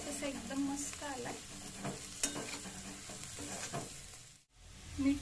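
Leftover roti poha colored with turmeric is stirred in a hot pan, a soft scraping of the spatula over a low sizzle, with repeated quiet strokes and a brief pause near the end.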